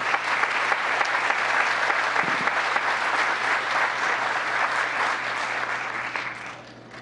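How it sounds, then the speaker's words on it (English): A town council meeting audience gives a big round of applause, a dense steady roar of many clapping hands that tapers off at the end. "if we could join here in a big round of applause for all the great work that they do"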